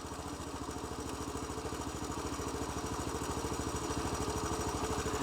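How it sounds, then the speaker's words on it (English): A Honda CT110 motorcycle engine, its carburettor being tuned, putters at a fast steady idle with an even rapid pulse that climbs slightly in loudness and pitch as it is revved, heard up close. "I might just give that a bit of a rev."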